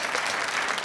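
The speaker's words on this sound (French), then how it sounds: "On peut applaudir les messieurs," Studio audience applause on a French television dating game show, a continuous wash of clapping from a crowd throughout the short moment.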